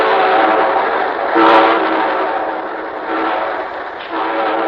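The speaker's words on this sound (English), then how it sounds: "And here comes our star-studded show train." A train rolls past with a steady, loud rumble and a brief whistle-like blast partway through, the noise swelling and easing slightly as it goes, on a 1953 radio broadcast.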